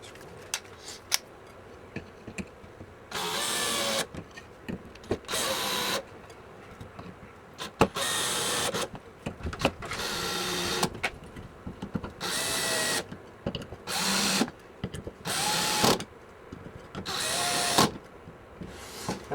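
A power drill drives screws into a new plywood faceplate for a homemade scrap-built lathe, whirring in about eight short bursts separated by pauses, close and clear, with light handling clatter between runs.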